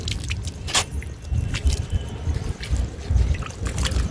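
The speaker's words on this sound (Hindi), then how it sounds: "अभी मैं इसमें थोड़ा पानी देने वाली हूँ ताकि अच्छे से मॉइस्चर बन जाए ऊपर" Water is poured from close by into containers of soil being prepared for planting turmeric and ginger, a soft uneven trickle and splash lasting a few seconds, with no speech.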